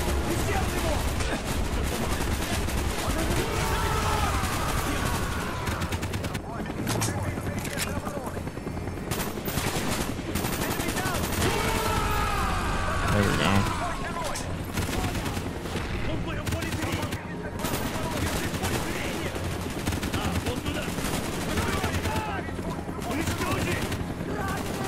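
Sustained AK rifle gunfire in Call of Duty: Black Ops (2010), dense bursts and overlapping automatic fire running loud and continuous throughout, with a voice talking over parts of the shooting.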